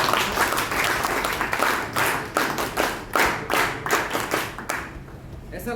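An audience in an Indian institution hall claps to welcome a guest, loud rhythmic handclaps in steady waves that gradually thin out and fade near the end.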